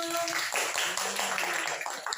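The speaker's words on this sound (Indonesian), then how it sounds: "Tepuk tangan dulu." A school class clapping hands together on cue in a classroom, a short burst of many quick overlapping claps that fades out after about two seconds.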